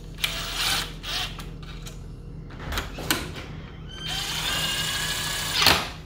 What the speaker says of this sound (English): grab the screw gun